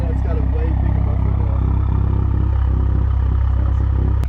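Toyota MK5 Supra idling with a Tomei Type-R single-exit titanium exhaust, a steady loud low rumble with light clatter running throughout, and a short sharp pop right at the end.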